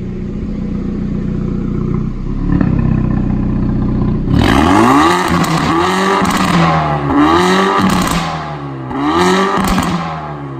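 A Hyundai i30 N with a modified exhaust and Unichip tune idles, then revs hard several times in succession, each rise ending in loud, crackling pops and bangs from close by.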